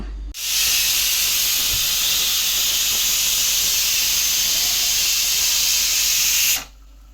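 A pressure cooker with mutton inside vents steam in a loud, steady hiss that starts abruptly, holds for about six seconds, then cuts off, close by with no talk.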